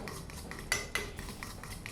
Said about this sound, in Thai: ก็ตีให้เข้ากัน ขั้นตอนนี้ไม่ต้องตีนานนะครับ